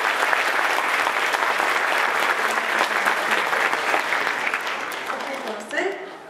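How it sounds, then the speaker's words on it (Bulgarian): A crowd claps loudly and continuously at a children's dance charity evening held by a kindergarten. The applause thins out toward the end as a voice briefly cuts in. "Аплодисменти си, мама!"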